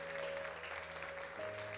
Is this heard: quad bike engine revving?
no